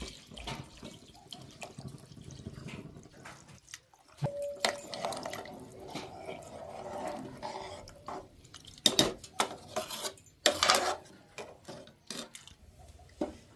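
Water splashes and pours into a cooking pot in uneven bursts, with clinks and knocks of utensils around it.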